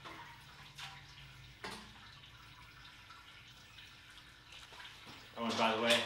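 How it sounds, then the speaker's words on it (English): Brewing liquid is poured over spent grain and bread, a soft continuous watery trickle with a louder splashing gush at the end, heard close. "I'm kind of purposely pouring it over the bread"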